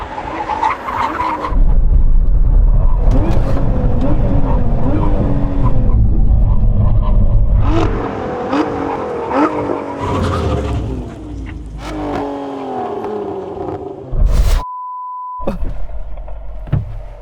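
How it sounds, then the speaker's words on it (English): A sports car brakes hard from 100 mph during a drag race test. Loud engine and tire noise is followed by pitch-dropping squeals and roaring deceleration, then a brief steady beep near the end. "Get ready for the big old brake."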